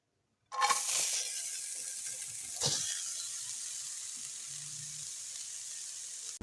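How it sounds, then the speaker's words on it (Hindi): Carrots for gajar ka halwa drop into a hot kadhai over a high flame, bursting into a loud hiss that fades to a steady sizzle, with a brief splash partway through and no talk. "अब इसमें हम डालेंगे गाजरें"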